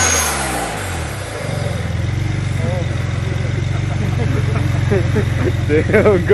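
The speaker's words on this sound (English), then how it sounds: "You can hear the turbos spooling up." Turbocharged engine of a 2007 BMW 335i fitted with a dual cone intake revving up, a loud, close, rising roar with whooshing turbo spool, while someone shouts briefly over it.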